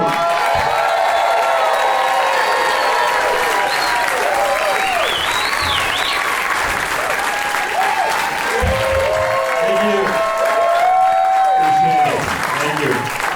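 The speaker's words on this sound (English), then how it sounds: "Let's give a warm round of applause to your headliner for the evening." A comedy special audience gives its headliner a warm welcome with sustained, dense applause and scattered cheers and whoops. The sound holds loud and steady throughout, with voices mixed into the crowd noise.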